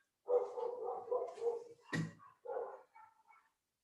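Pet dogs indoors bark loudly in a few rough bursts, with a sharp thump partway through, on a snowy day.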